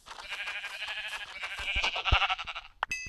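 Continuous bleating from a Minecraft sheep, a wavering nasal call that rises and swells before cutting off with a few short clicks.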